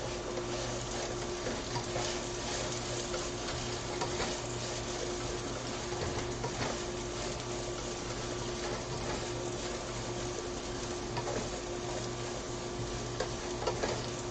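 Potatoes cooking as home fries in a pan, a steady broadband sizzle holding evenly throughout with faint scraping and stirring, close and moderately quiet with no voices.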